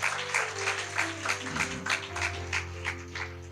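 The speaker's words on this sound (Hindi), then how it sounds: "अच्छे से ताली बजाइए।" Audience applause at a church programme for the deaf: a steady wash of many hands clapping with rhythmic peaks, sustained for several seconds over a low droning background hum.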